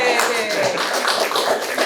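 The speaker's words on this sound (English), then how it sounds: "Give everyone a round of applause." An audience at a spring community association meeting gives a short round of scattered, close clapping, with a voice speaking over it.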